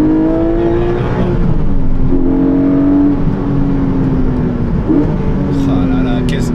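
A Porsche 718 Boxster GTS 4.0's naturally aspirated flat-six drones steadily at high revs, pitch climbing and easing through gear changes, loud and continuous with road noise underneath.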